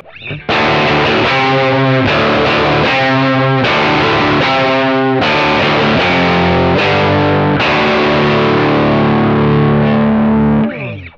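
Distorted electric guitar, with no Carbon Copy delay pedal, plays a series of sustained chords with sharp attacks and gritty overdrive, each ringing dry without echo before the next strike.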